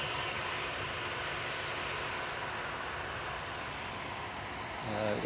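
Broadband jet engine roar from an aircraft taxiing at Manchester Airport, steady and moderately distant, with a faint voice speaking under it near the end.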